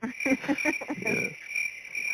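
Crickets chirp in a steady, high-pitched drone that runs the whole short stretch, with a few voice-like sounds in the opening second.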